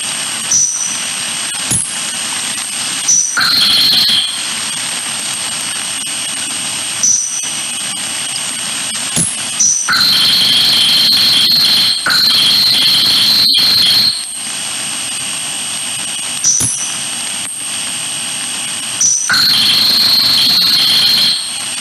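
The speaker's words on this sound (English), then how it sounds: "what you heard there was short-ranging chirps and then some bursts of telemetry data" Underwater acoustic positioning signals: short, high-pitched ranging chirps followed by longer shrill telemetry data bursts, repeating in groups over a steady background hiss, loud and piercing, with no talk.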